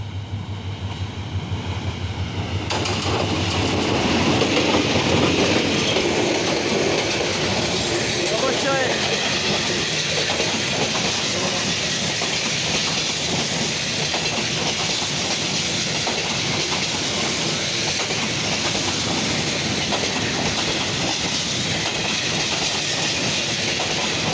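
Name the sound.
passing train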